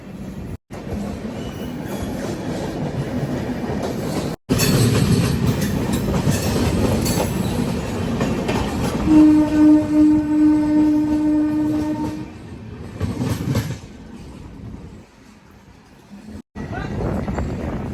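Train running on a parallel track beside a Nidadavole–Narsapur MEMU, loud continuous rumble and wheel noise with a sustained horn blast in the middle, then fading to a quieter roll before picking up again.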